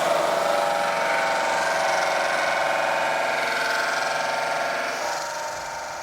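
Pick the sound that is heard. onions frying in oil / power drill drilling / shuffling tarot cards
power drill drilling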